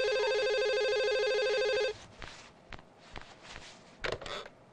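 A telephone rings with a steady electronic tone for about two seconds, then cuts off, followed by quiet handling clicks and rustles nearby.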